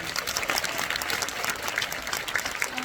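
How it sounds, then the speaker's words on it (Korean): A Korean film screening audience claps for two actors after a Q&A, even and continuous, moderately loud throughout. "감정씬을 보여주신 두 분께 또 박수 부탁드립니다"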